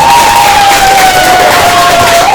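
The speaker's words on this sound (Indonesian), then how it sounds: "Tepuk tangan untuk kelompok." Applause and cheering from a classroom crowd for a group of students in an Islamic religious education class, loud and continuous throughout with a steady tone running underneath.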